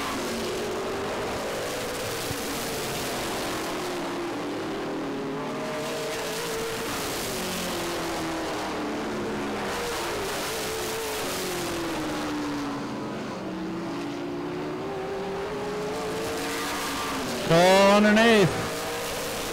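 Race cars running rich at a Memorial Day weekend event at Baer Field Motorsports Park drone around the speedway, engines rising and falling as they pass, with a close, loud pass near the end, under continuous commentary.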